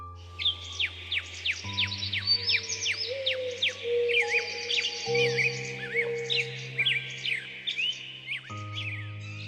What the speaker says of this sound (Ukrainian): З темряви доносились звуки диких тварин, пташок та гомін лісу.